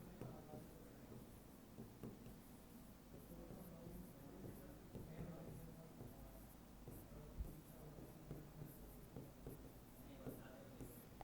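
Pen or marker writing notes during a lesson, a soft scratchy scribbling that runs continuously under a teacher's spoken explanation in a room.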